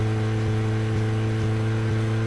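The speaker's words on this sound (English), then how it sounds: "It helps that the car makes such a pleasant noise." A car engine in a driving video game hums steadily at a constant pitch, a droning idle-like tone with a faint regular pulse and no talk over it.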